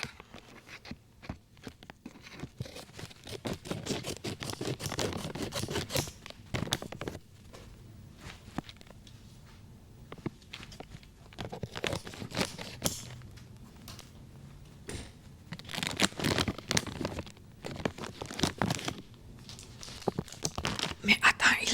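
Snack packaging from a French food haul is cut open and torn, with crinkling and tearing bursts of plastic in close ASMR detail, mixed with intermittent talking.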